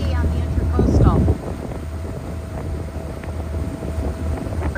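Boat motoring along the Florida Intracoastal Waterway on a chilly morning, a low steady engine drone with wind buffeting, heard from inside the cabin under a burst of voices near the start.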